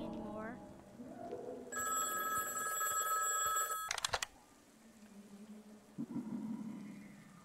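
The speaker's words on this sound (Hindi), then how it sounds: "फोन बज रहा है।" A telephone rings in the horror video game Trud. It gives one sustained, bright electronic ring lasting about two seconds, then a short burst of rapid clicks, with faint voices and game sounds before and after.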